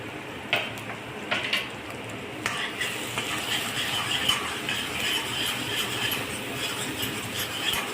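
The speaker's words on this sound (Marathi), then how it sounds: "तर छान परतून घेणे" Cashew paste masala with garam masala and crushed kasuri methi being sautéed in a pan, a steady dense sizzle under repeated spoon scrapes and taps, close and moderately loud, no talking.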